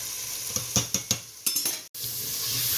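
Chicken tikka masala roasts in a pot for biryani. A spoon scrapes and clinks against the pot about half a dozen times in quick succession over a gentle sizzle, then goes briefly silent.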